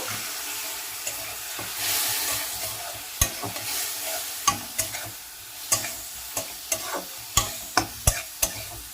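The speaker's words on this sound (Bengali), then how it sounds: "সামান্য একটু জল দিয়ে কষিয়ে নেব।" Spices for a snake gourd dish sauté with a little water, giving a steady hiss with a run of sharp, evenly spaced clacks and scrapes as a spatula stirs the pan, close and clear, with no voices.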